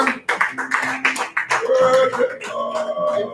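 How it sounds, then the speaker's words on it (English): Clapping after a performer's set at a live show, a handful of distinct, uneven claps at first, then giving way to voices talking and tonal sounds. "Ladies and gentlemen, a round of applause for Tapeworm."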